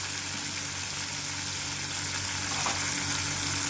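Cucumber and okra pieces frying in hot oil, giving a steady, even sizzle close by with no talking.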